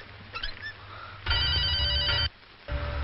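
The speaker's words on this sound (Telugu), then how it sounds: "okay Dilip phone for you" A telephone rings in short electronic bursts, loud and close, with a brief tonal chirp before the main ring and another burst starting at the end.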